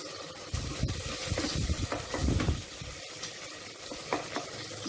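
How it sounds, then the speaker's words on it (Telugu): Green chillies and tomatoes frying and being stirred in a pan while making plain biryani, a steady close sizzle with soft scraping stir strokes and no talking. "పచ్చిమిర్చి కొద్దిగా వేగిన తర్వాత ఈ టమాటాలు కూడా వేసేసుకుందాము."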